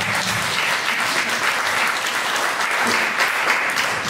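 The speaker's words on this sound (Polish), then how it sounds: "wielkie brawa" Sustained, dense applause from a concert audience at a performance by a band, loud and even throughout with no break, clapping alone without talk.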